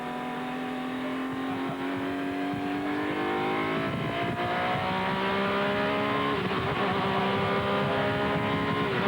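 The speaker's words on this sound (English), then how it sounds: "as the Ferraris too go past" Ferrari sports racing cars on Pirelli tyres scream past during a 2000 Sportscar World Championship race, several high-revving engines rising and falling in pitch with gear changes, loud and sustained throughout.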